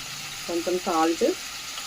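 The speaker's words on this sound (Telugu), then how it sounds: "అందుకనే ఆయిల్లో కొంచెం అలా డీప్ ఫ్రైలా చేసుకోవాలి మసాలా ముద్ద" A ground masala paste of ginger and garlic fries in oil for a raw snail curry, giving a low, steady sizzle. A short voiced sound or squeak rises briefly over it midway.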